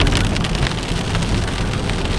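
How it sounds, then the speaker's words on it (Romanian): Heavy rain pours steadily at an outdoor electric car race in Romania, a dense, continuous hiss and patter close by with no voices or other sounds. "Și oamenii sunt senzaționali, este plouă ceva de speriat."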